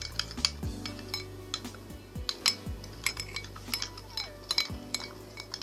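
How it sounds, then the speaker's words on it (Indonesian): A utensil stirs water into a slime mixture in a bowl, making light, irregular clinks and taps against the bowl's side with a faint wet swish underneath, close and fairly quiet. "Udah itu kita aduk. Pelan-pelan aja ngaduknya."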